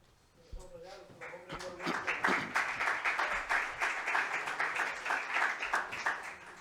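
Audience at an astronomy photography lecture breaks into applause that builds after a quiet start and continues steadily. A voice is heard near the beginning.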